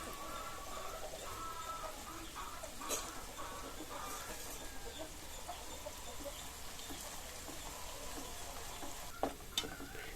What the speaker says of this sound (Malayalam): നല്ല ഗോൾഡൻ കളർ ആവുന്നവരെ ഒന്ന് വറുത്തെടുക്കണം